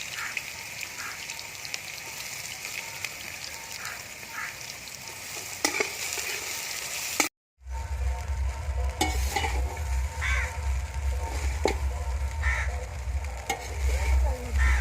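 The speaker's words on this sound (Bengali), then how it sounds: "প্রথমে গাজরটা ভেজে নিচ্ছি" Carrots frying in a pan for fried rice, an even close sizzle with spoon scrapes and taps as they are stirred, briefly cutting out midway before the hiss resumes with a low rumble underneath.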